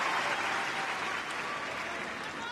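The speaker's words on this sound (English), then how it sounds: "if he can, you can hear the crowd." Tennis crowd applauding during a men's final between Del Potro and Tomic, a steady, dense wash of clapping from a large stadium audience filling the whole stretch at even loudness.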